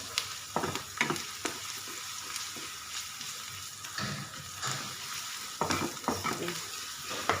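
Onion frying with ginger garlic paste in a pan until golden brown, a close steady sizzle punctuated by repeated stirring scrapes and clinks of the spoon.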